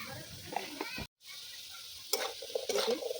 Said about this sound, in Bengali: লাল লাল করে ভেজে নিতে হবে আলুগুলো।